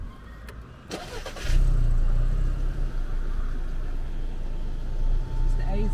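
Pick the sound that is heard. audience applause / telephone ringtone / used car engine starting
used car engine starting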